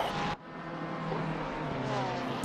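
Racing car engine in a sim racing game at Zandvoort, a steady droning whine after a brief louder burst at the start, no talking over it.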